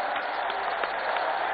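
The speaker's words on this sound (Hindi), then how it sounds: "जोरदार तालियों के साथ" A brief burst of steady crowd clapping at a public inauguration ceremony attended by Prime Minister Narendra Modi in Rajasthan, dense and even, heard through a narrow, muffled broadcast feed.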